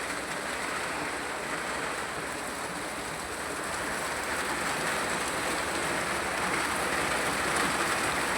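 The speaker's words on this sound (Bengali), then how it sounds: "বৃষ্টি জোরালো একটা বৃষ্টি দেখেছো" Heavy rain pours down steadily by a balcony, a dense, loud hiss that swells slightly toward the end, with no voices.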